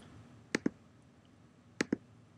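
Two quick pairs of computer mouse clicks, each a sharp double tap, spaced about a second apart, close and crisp over a faint room hum while working in Logger Pro software.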